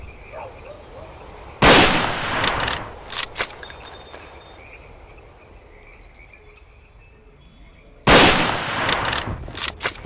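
Gunfire in the shooter game S.T.A.L.K.E.R.: Call of Pripyat, Misery Mod: two loud bursts of shots, one early and one near the end, over a steady bed of croaking frogs and ambient noise.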